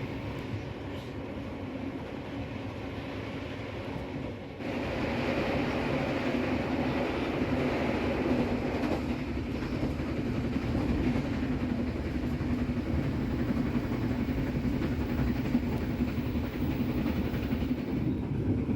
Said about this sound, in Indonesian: kereta api Ranggajati langsung tancap gas di kisaran 95 km per jam ya